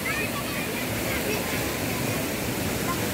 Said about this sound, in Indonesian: Tuh ada sungainya guys. Pada mandi di sungai.